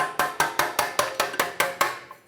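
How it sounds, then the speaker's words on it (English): A hammer taps a brake adjuster on a Ford E-350 Super Duty about ten times in a steady, quick rhythm, each strike sharp and ringing, close and fairly loud with no talking. "Give it a slight tap with a hammer."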